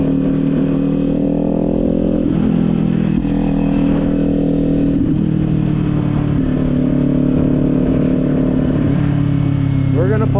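Motorcycle riding in high winds, its steady engine drone running loud and continuous throughout with the rumble of wind buffeting, and the rider's voice occasionally talking over it.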